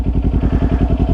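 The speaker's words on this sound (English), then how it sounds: "Guess what? You are riding a motorcycle." A Kawasaki Ninja 400 motorcycle engine chugs steadily at low revs as the bike pulls away slowly, a loud, close, even throbbing pulse with no talk.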